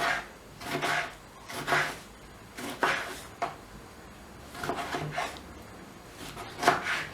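Knife chopping tomatoes into small cubes on a cutting board: a steady series of close, moderately loud chopping strokes, each a short burst, spaced roughly a second apart with brief pauses between.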